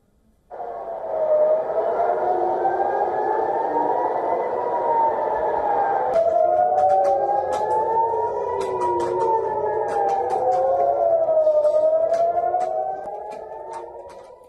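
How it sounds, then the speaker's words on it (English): Wailing air raid sirens in Jerusalem rise and fall continuously, several overlapping tones sweeping up and down, loud and sustained with faint crackles in the background. "Air raid sirens were heard in Jerusalem and nearby West Bank towns"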